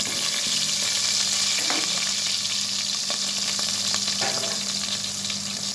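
Ginger and garlic fry in hot oil with onions for biryani, giving a loud, steady sizzle and crackle throughout with faint stirring scrapes and no talking.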